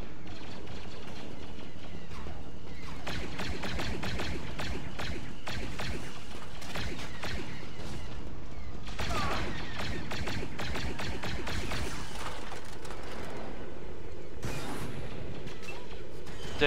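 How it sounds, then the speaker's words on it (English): Rocket launcher fire in the Star Wars Battlefront video game: repeated loud blasts and explosive bursts amid a dense, chaotic battle soundscape, with a voice talking in between. "This is a rocket launcher?"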